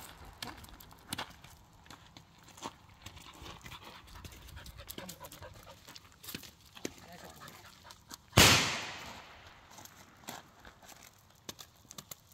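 A dog pants quietly in the background, with a sharp loud burst partway through and faint rustling throughout.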